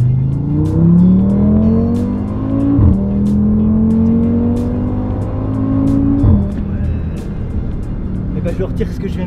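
An Audi RS3 accelerating hard on a straight road, engine note climbing steadily and dropping at two gear changes, loud and close from inside the car with voices talking over it.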